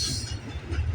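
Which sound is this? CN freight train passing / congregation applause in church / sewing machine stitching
CN freight train passing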